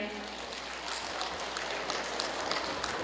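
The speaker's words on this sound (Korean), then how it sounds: "큰 박수로 환영해 주세요." An audience in an elementary school gymnasium at a seniors' celebration applauds to welcome folk-song performers, a dense, continuous wash of many hands clapping at once and filling the room.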